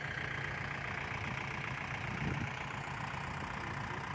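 A modified farm tractor engine idles steadily with a constant mid-low drone and a faint knocking texture, one brief louder surge midway, no voices.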